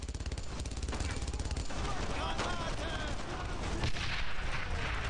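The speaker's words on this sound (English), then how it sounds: "Alright, grenade." In Brothers in Arms: Road to Hill 30, a grenade explosion sounds within steady gunfire, with rapid machine-gun bursts and booming shots layered over continuous battle noise. A voice talks faintly underneath.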